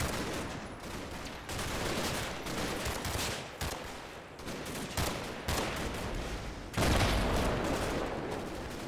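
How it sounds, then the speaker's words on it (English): Rapid bursts of 20mm cannon fire from a Puma armoured car in the WWII tactics game Combat Mission, loud and sustained over about nine seconds with dense repeated volleys and a heavier blast near the end, no talk. "they have a Puma armoured car in support. Its 20mm cannon"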